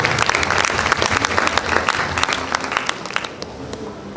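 Graduates and guests clapping at a pharmacy induction and oath-taking ceremony, a lively crowd of hands with distinct sharp claps standing out, thinning slightly toward the end.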